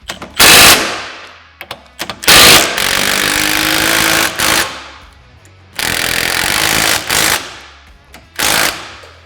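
A power tool fully tightens the upper and lower mounting hardware of a flip-down glass windshield on a Polaris General XP 1000, firing in loud, rapid hammering bursts separated by short pauses.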